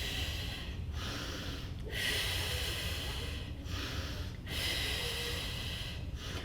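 Steady, audible breaths during a mat Pilates warm-up with a ring: two long exhalations broken by brief pauses, close and fairly loud with no talking over them.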